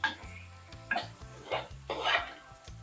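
Squid is stirred into a pan with tomato and onion for a squid curry, making a few close, distinct scrapes and clinks of a spoon against the pan over a faint sizzle.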